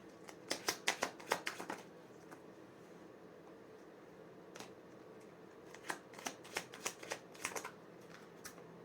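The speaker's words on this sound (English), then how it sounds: "I'm just going to pull another card just to get a bit more information." Tarot cards shuffled by hand in two bursts of quick, close, crisp riffling flutters, with a quiet pause between them and no talking.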